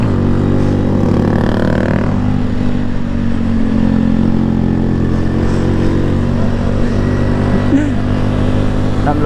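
A Yamaha R15 motorcycle ridden hard, its engine droning and roaring steadily at close range throughout, with a faint voice underneath.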